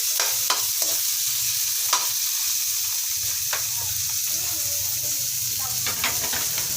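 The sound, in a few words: sautéing garlic, onion and tomato in pan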